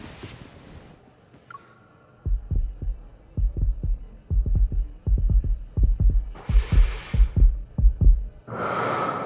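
A stylized heartbeat effect in the romance video game Love and Deepspace, a steady run of deep double thumps in a quick regular rhythm, framed by soft whooshing swells at the start, middle and end.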